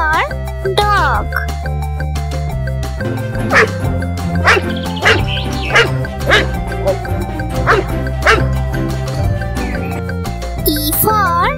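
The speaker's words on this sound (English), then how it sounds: "D for dog." A dog barks in a rhythmic series of sharp, repeated yips over steady background music, each bark clear and fairly loud, as the alphabet example for the letter D.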